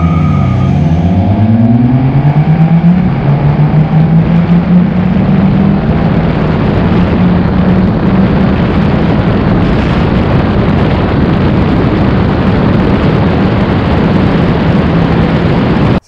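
Three-wheeled motorcycle fitted with a Pedal Commander accelerating hard, engine pitch climbing through quick rising sweeps then holding a loud sustained roar with heavy wind buffeting throughout, close and continuous.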